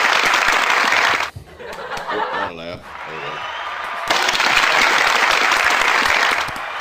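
A podcast audience breaks into loud, dense applause for Andrew Tate's reinstatement. It comes in two bursts, separated by a short stretch of talking and chuckling in the middle.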